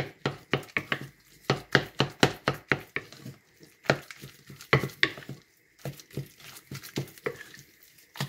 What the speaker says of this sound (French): j'ajoute un à un les œufs et je mélange.